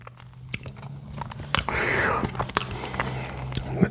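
Close-up biting and chewing of peanut butter cookies with milk during a mukbang, soft crunches and wet mastication sounds with a few sharp clicks, intimate and mouth-near.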